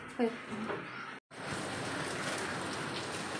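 Heavy rain pours down under a darkened sky, a steady broadband hiss that fills the scene after a brief gap, with a short stretch of softer rain and faint background sounds before it.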